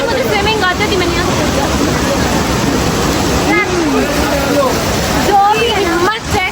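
The Umbrella Waterfall at a mountain hiking spot, a constant loud rushing roar of falling water filling the scene, with people chattering and calling out over it.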